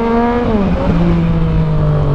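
A Yamaha MT-09 motorcycle accelerates hard, its loud close engine note rising and then dropping as it shifts, with no voices.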